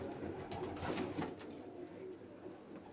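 Pigeons on a rooftop coo in soft, low repeated calls over a steady background hum, with a few brief rustling bursts nearby.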